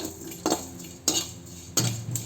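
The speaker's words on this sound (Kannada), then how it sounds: "ಈಗ 1 ಚಮಚ ಸೋಂಪು ಕಾಳನ್ನು ಹಾಕಿ ಫ್ರೈ ಮಾಡ್ತಾಯಿದ್ದೀನಿ" Fennel seeds fry in a pan for a Kundapura coastal-style fish curry: three distinct scraping stirs of a spoon against the pan, with only a faint sizzle between them and no talking.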